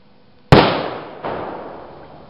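A 9mm Corbon DPX +P round fired from a 5-inch barrel into a denim-covered milk jug fifteen feet away gives one sharp, loud report with a long decaying echo and a second softer impact-like burst.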